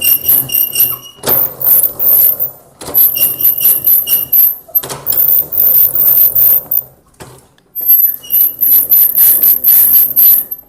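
A retro hand-cranked machine rolls out puff pastry dough in loud, close bursts of squeaky rubbing and creaking, each pass lasting a second or two, with short pauses between turns.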